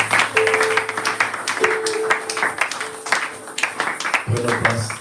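A church congregation at a worship service claps together to acclaim Jesus, a steady patter of many hands filling the room with voices mixed in.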